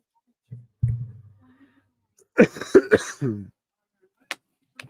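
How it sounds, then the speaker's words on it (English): A few short, harsh coughs at a distance, with quiet muffled talk and faint sounds in between, plus a sharp click near the end. "you can hear her coughing in the background"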